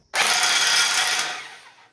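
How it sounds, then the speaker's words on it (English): A power drill bores with a size O bit into steel parts for a welding fixture table: one loud, steady high whine starts abruptly, holds for about a second, then winds down and fades as the trigger is released. "I drilled these to a size O drill bit to use the Speed Taps 3/8 thread"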